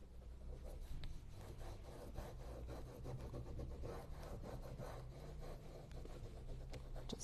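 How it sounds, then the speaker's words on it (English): A tool rubs firmly over a plastic stencil transfer, making a continuous close, quiet scratchy rasping with rhythmic strokes. "just rubbing that with the tool, or like I said before, you can use a store card"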